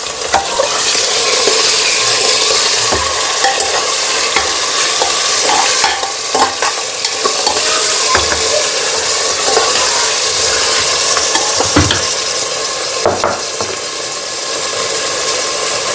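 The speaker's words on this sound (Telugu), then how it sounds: "డైరెక్ట్ మటన్ వేస్తున్నాను నేను." Mutton tossed straight onto fried onions, with no ginger paste, for Rayalaseema gongura mutton sizzles loudly in a pan, broken by repeated scraping stirs and spoon knocks.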